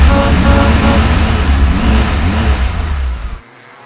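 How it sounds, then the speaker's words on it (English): Cartoon monster truck Blaze fires his boosters at blazing speed in a race: a loud, sustained engine roar with a rushing whoosh that holds steady, then cuts off abruptly near the end. "Blaze deployed his spoiler and boosters"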